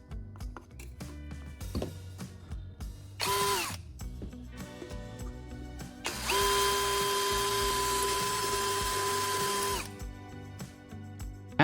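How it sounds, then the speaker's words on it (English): A small hole is drilled in the bottom of an empty aluminum soda can, with short power-drill whirs and clicks followed by a longer steady high drilling whine. "I'm marking the center of the can's bottom and drilling a small hole there."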